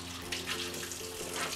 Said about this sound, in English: First, I wash my hands.